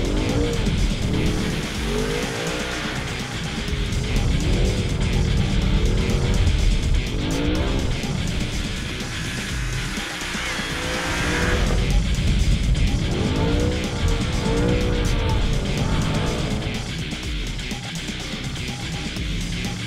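Loud mid-engined Audi R8 racing engine revving and sliding, with tires squealing in long sweeping bursts as the car drifts, close and continuous.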